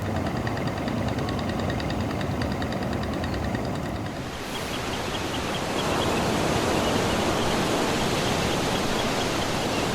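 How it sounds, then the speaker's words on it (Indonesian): A river carrying sediment downstream flows in a steady, broadband rush of water that holds an even, continuous level throughout, with no talking. "Ini sungai, ada air ini membawa material dari hulu ke hilir."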